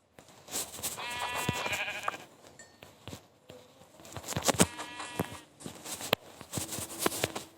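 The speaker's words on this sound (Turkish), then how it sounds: "Aha iki tane koyun." Two sheep bleat in wavering cries in Minecraft, close by, with soft footsteps and clicks between them and no talking.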